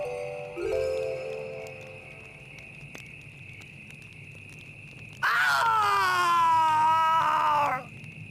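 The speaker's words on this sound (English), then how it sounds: "A scream." A loud, high, wavering scream from the Bravely Second video game rises suddenly after a short quiet stretch with a faint earlier cry, holds for about two seconds, then cuts off over a steady background tone.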